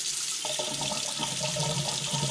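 Hot water running steadily from a bathroom sink faucet, a continuous loud close splash and hiss with no talk.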